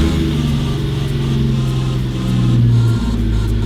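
Nissan Patrol with a turbocharged TB45 engine running close by, a loud steady low rumble with slight swells in revs, no voices over it.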